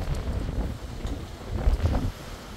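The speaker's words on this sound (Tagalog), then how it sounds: "Sobrang mahangin ngayon." Strong wind blows outside a house, gusting and buffeting hard against the microphone in a low, rumbling roar that swells toward the middle before easing.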